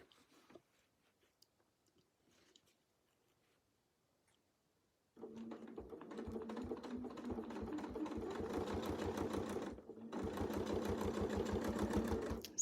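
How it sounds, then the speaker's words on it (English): A sewing machine runs steadily while quilting circles on a quilt guided by a Westalee circle ruler, starting after a quiet stretch, pausing briefly, then resuming its close, rapid stitching rhythm. "So now we'll sew up."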